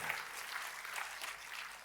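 A church congregation applauds, a faint, dense wash of clapping that stays steady throughout with no clear voices.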